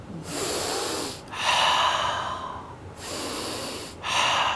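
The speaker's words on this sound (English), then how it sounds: "The second sound, primordial sound, is the sound in our nose, which is the sound of our breath." Slow meditative breathing through the nose, close and clear, as long airy inhales and exhales alternate in a calm, even rhythm with short pauses between them.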